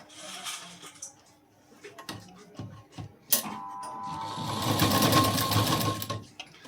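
A sewing machine runs in a sustained whirring burst while stitching cord piping along the edge of a fabric patch, preceded by soft handling clicks and rustles of cloth.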